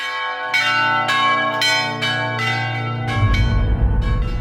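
A church bell rings in a steady series of about seven resonant strikes, each one sustaining and overlapping the next, loud and close with a ringing tail that fades out.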